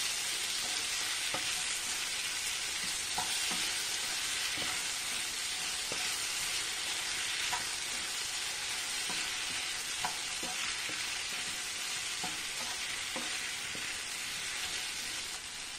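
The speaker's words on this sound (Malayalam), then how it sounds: "ഉപ്പും എല്ലാം പിടിച്ച് മാങ്ങ വെളിച്ചെണ്ണയിൽ നല്ല പോലെ വഴന്നു വന്നിട്ടുണ്ട്" Raw green mango pieces sauté with salt in coconut oil, a steady, fairly loud sizzle hissing on without pause, broken by faint stirring scrapes and no voices.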